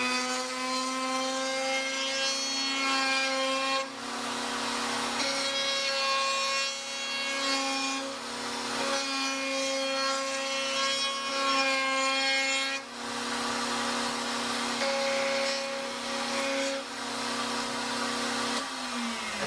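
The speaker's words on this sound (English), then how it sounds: "to clean the whole thing up, I'm going to use an undermount table router" An undermount table router rounds over the edges of wooden game pieces, its steady high whine rising and dipping as each piece is fed through in repeated passes, close and loud with no talking.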